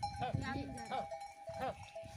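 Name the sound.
goats in a village flock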